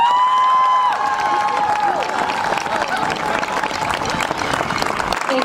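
Crowd cheering and applauding at a school football field dedication, with a sustained horn-like tone fading out at the start as dense clapping and shouts swell and carry on loudly.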